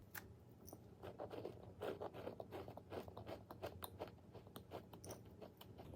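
Close-up chewing of a very light, crumbly, crunchy scone, a run of quick dry crackles and crunches at an irregular rhythm, quiet and intimate without speech.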